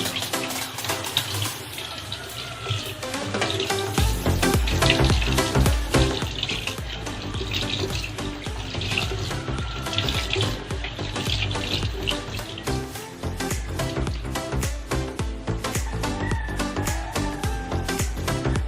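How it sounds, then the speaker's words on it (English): Tap water running steadily into a sink while a doll's hair is rinsed, a continuous close splashing hiss with small bursts as the stream hits hair and basin, no talking over it. "We're going to wash her hair. I'm going to rinse it."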